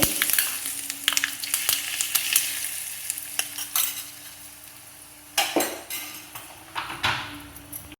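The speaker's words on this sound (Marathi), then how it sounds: "कढीपत्ता तीळ आणि हे लाल मिरची ह्याच्यावर आपण फोडणी घालून घेतल्या" Sesame seeds, asafoetida, red chilli and curry leaves sizzling in hot oil for a ridge gourd thecha tempering, a steady close crackle with stirring clinks and scrapes of a spoon against the pan.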